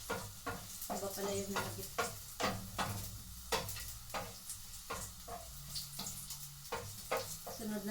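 Garlic and onion sizzle and fry in a hot pan while being stirred, with steady crackling and repeated scraping strokes up close as a person talks over it.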